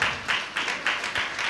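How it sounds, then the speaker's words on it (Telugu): Church congregation at a field training programme claps in a slow, even rhythm, about six distinct claps close by with no talk over them. "వెరీ గుడ్, క్లాప్స్ కొట్టాలి గట్టిగా."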